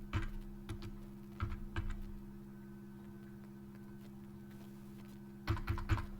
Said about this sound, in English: we'll just type here